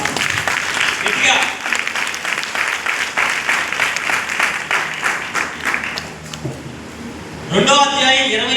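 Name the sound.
audience clapping loudly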